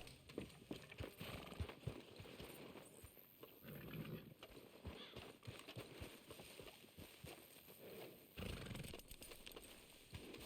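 Horse hooves clip-clop steadily as a horse is ridden in the video game Red Dead Redemption 2, a brisk rhythmic gait heard close with a faint snort, over ambient game sound and no talking.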